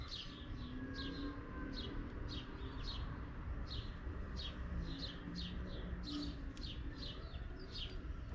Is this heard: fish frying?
no